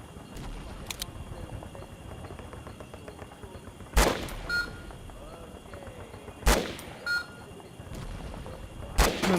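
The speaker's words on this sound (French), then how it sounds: "Le M16 a 2 modes de tir. Coup par coup et rafale." Three sharp, loud M16 rifle shots in the Vietnam War video game Conflict: Vietnam ring out at spaced intervals over a low ambient bed, each with a quick metallic echo.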